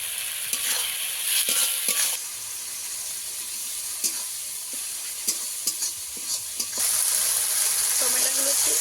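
Spice masala fries in a pan for a kuche fish (eel) curry, with a steady close sizzle and repeated scraping strokes as it is stirred, with no talking.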